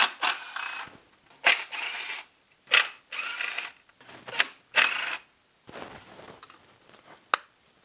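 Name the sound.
ratchet removing 10mm fuel rail bolts on BMW E46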